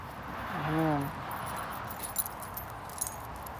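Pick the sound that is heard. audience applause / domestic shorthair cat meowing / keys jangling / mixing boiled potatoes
keys jangling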